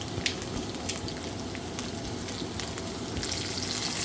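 Baguio beans stir-fried for sotanghon gisado, a dense close sizzle and crackle of hot oil with occasional sharper pops, steady throughout and rising slightly at the end.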